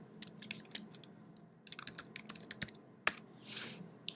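A password is typed on a computer keyboard as quiet, irregular bursts of crisp key clicks, with short pauses between clusters and a firmer tap near the end.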